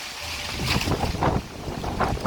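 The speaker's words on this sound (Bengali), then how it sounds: "প্রচণ্ড লেভেলের বাতাস বইছিল" Strong storm wind buffets the microphone in a village on the day before Eid, a continuous roaring rumble with gusty swells, loud and close, with no voices.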